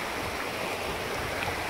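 Small waterfall on a hiking trail along the Art Loeb Trail, giving a steady, close rush of splashing water that stays even throughout with no voices.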